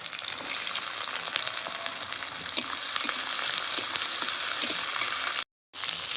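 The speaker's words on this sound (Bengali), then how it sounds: "এবার দিয়ে দেবো কুচানো পেঁয়াজ" Chopped onion fries in oil with a steady, loud sizzle that holds for the whole stretch, broken only by a brief silent gap near the end.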